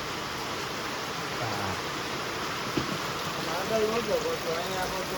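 Rain falls in a constant hiss, with people talking quietly underneath.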